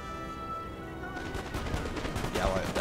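Musket volleys from massed infantry in the Napoleonic-era strategy game Napoleon: Total War, a dense rolling crackle of overlapping shots spread across the clip over steady battle noise and game music, with no break between bursts.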